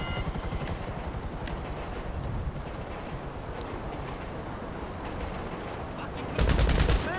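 A helicopter in the video game GTA Online, its rotor chopping in a loud, steady, close throb with bursts of gunfire layered over it. The noise swells sharply for the final second.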